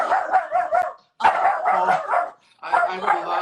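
Several dogs bark in quick bursts, fairly close, in three clusters separated by short pauses, with people talking over them.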